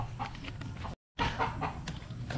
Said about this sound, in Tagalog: mayroon tayong 3 manok lang dito guys